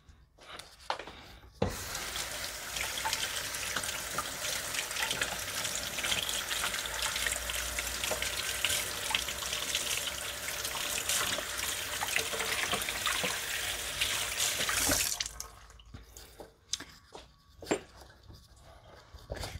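Alugbati (Malabar spinach) greens being rinsed under a running kitchen tap, a steady close splash of water into a sink for about thirteen seconds, then the flow stops, leaving faint handling sounds.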